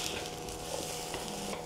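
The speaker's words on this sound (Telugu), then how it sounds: "నేను హై ఫ్లేమ్ మీద ఫ్రై చేస్తున్నాను" Half a kilo of sliced okra fries in oil over a high flame, producing a continuous, fairly quiet sizzle with light stirring and no voices.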